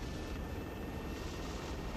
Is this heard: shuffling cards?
no